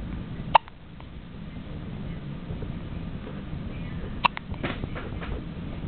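Two sharp, isolated hiccups land about four seconds apart, each a brief burst over a steady low hiss with no talking.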